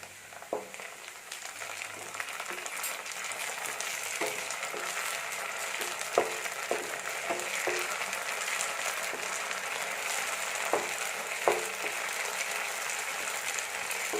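Browned onions with ginger garlic paste sauté in oil for a dhaba-style chicken curry, a dense crackling sizzle with scattered spoon scrapes and taps, close and steady with no voices.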